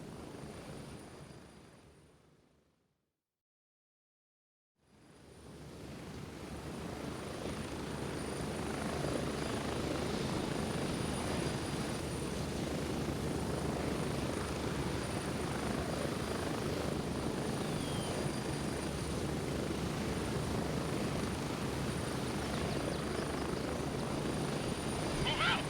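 Helicopter in the military shooter game Gray Zone Warfare, a loud steady rotor and turbine drone rising after a brief silence and holding continuously, with rotor chop under it.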